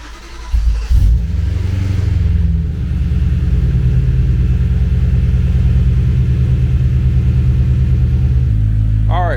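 A BMW E93 M3 engine cranks and catches with a loud burst, then settles into a steady, deep idle that continues until a brief rise in pitch near the end.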